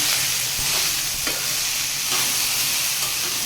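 Vegetables being stirred and sautéed in a pan for a vegetarian mixed vegetable dish, a steady close sizzle with a few scraping stirs of the spoon.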